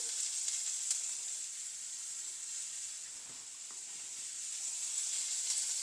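Drumstick pieces fry with salt and turmeric in a pan, a steady hissing sizzle throughout with a few faint stirring clinks, no one speaking.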